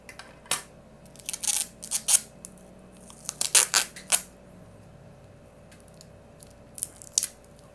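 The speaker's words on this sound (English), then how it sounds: "Because this simple scissors should already work, okay?" Simple scissors cut a sole protector sheet for Yeezy Boost 350 V2 Zebra sneakers, giving a series of close, crisp snips and crinkling cuts in irregular bursts with pauses between them.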